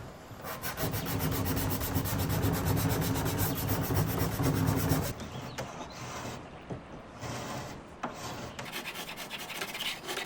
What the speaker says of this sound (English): By hand sanding the detailed areas is where I often spend the most time.